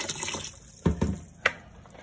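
A splash of vinegar is poured into a container of soaking water, giving a few short wet sloshes and splashes, close and fairly quiet.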